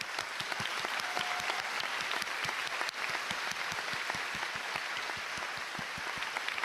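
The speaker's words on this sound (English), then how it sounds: "A round of applause." Steady applause from a live esports audience at the Gran Turismo World Series Nations Cup final in Tokyo, dense clapping filling the hall for the Driver of the Day award with no voices over it.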